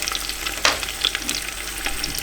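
Meat sizzles and spits in a hot pot for an Afghani dam pukht slow-cooked stew, a steady close frying hiss with a few louder pops and crackles, no voices.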